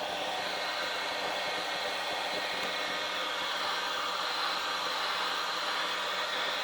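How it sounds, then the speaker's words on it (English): A small rechargeable handheld vacuum cleaner runs continuously with a steady, even whirring hiss, close and loud from start to finish. "It's a nice little vacuum I bought."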